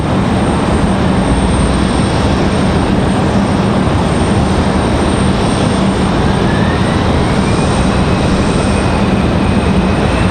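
Airplane passing at Raleigh-Durham International Airport, a loud, steady broadband engine roar filling the whole stretch with a faint rising whine late on, no voices.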